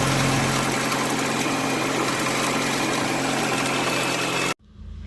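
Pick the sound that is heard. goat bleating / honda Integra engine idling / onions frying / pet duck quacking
honda Integra engine idling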